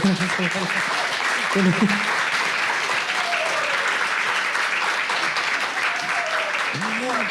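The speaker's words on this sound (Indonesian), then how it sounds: "Mari kita beri tepuk tangan dulu." Loud, continuous audience applause at a discussion session on Indonesian classical vocal music, a steady wash of clapping with a few brief voices rising through it.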